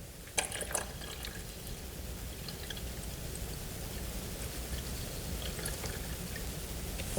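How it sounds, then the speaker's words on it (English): Water pours into the tank of a Redroad W13 wet dry vacuum, a soft steady trickle and splash with a few sharp clicks of plastic handling near the start, close and quiet. "Just fill the water tank for self-cleaning."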